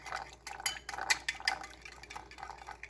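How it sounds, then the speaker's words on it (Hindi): Spoon scraping and clinking in a bowl while garlic bread topping with parsley is stirred together, light irregular taps and rattles, close and fairly quiet. "तो हम इसको मिक्स कर लेते हैं।"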